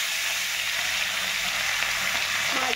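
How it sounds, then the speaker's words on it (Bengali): Catla and bhola fish fry in hot oil in a wok, giving a steady, loud, close sizzle that holds evenly throughout with no talking. "মাছগুলোকে আমি এখন ভেজে নিচ্ছি, দেখতেই পাচ্ছ"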